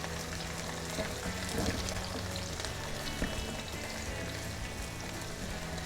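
Chopped onions sizzle in hot oil in a pan, a steady dense crackle with a soft, even hiss throughout and a few slightly louder pops.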